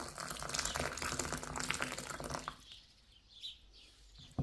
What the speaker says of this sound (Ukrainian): Першим ділом сухофрукти заливаю кип'ятком.